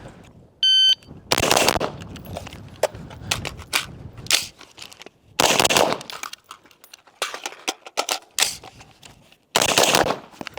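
A 933 rifle fires during a training session in several loud, sharp bursts of close gunshots separated by quieter gaps holding faint clatter and a brief electronic beep.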